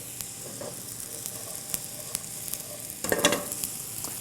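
Bread toasting in a pan for a tomato bread soup gives a faint, steady sizzle with small crackles, swelling into a louder burst of frying near the end as the food is stirred or moved.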